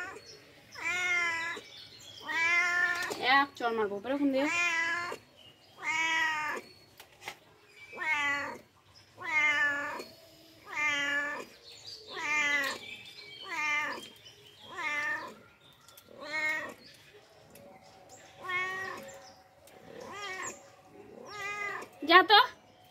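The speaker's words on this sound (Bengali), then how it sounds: "তার মধ্যে আবার তুমি এসে ম্যাও ম্যাও করছো।" A domestic cat meows over and over in a home kitchen while fish is being cleaned, giving a dozen or more close, insistent cries in a steady series, with a woman's brief remark among them.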